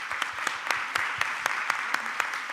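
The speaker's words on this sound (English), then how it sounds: "So this panel, a big hand for the panel," An audience at a forum panel applauds, steady dense clapping with a few sharper distinct claps standing out, moderately loud throughout.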